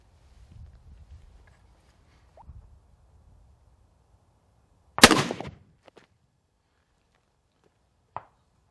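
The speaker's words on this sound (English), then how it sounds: "We're going to put just a few rounds through this ultralight hunting rifle. It's chambered in 300 Weatherby Magnum." A 300 Weatherby Magnum ultralight hunting rifle fires a single unsuppressed round: a sharp, loud crack with a short decaying tail after a quiet stretch of faint shuffling, followed by a couple of small clicks.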